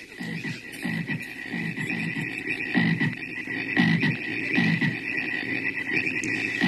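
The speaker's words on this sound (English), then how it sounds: "Frogs." Frogs croak in a steady rhythm, roughly one deep croak each second over a chorus of fainter calls, with no voices.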